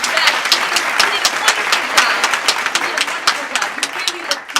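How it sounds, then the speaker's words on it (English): An audience applauds a Macbeth performer in New York City, dense steady clapping filling the moment with sharper individual claps poking through, fairly close and loud throughout. "Everybody clap it up for Macbeth."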